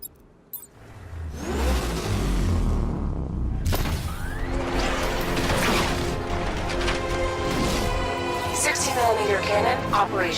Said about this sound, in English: that tank they have backing them up is unmanned